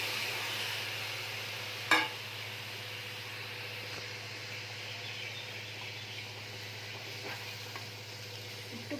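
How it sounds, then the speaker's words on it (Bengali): Pineapple pieces hit a hot wok for chutney and sizzle steadily, with a sharp clatter early on as they go in and a soft, even frying hiss after that, fairly quiet and without talk. "এবার আমি আনারসগুলো ছেড়ে দেবো এর মধ্যে।"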